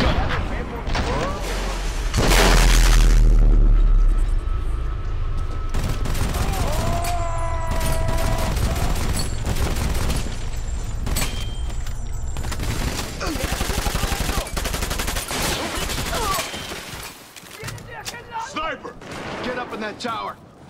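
Gunfire during a co-op firefight in the video game Army of Two: The Devil's Cartel, sustained bursts mixed with booms and mechanical clatter, loud, with voices talking over parts of it.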